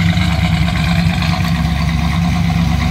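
A 1939 Plymouth two-door street rod idles behind the car with a steady, low exhaust rumble that stays close and continuous throughout, with no talking over it.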